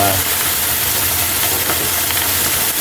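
Dried milkfish (daing na bangus) frying in a small pan, a steady close sizzle and hiss of hot oil with light crackles, continuous and fairly loud.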